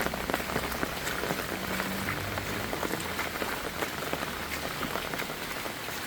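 Steady rain falls in Jaffna, a loud, dense patter of drops hitting surfaces that continues without a break.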